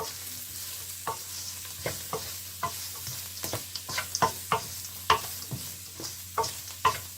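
Chili powder frying in a hot pan while making spicy upma, a steady soft sizzle with a string of sharp spoon scrapes and taps against the pan, close and alone with no talk.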